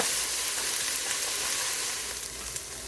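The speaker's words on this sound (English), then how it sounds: "I'm gonna let this saute probably for 5 minutes or so until the onions start to become" Onions sautéing in a pan for soup, a continuous bright sizzle with faint crackles and a little stirring, steady and close with no talk over it.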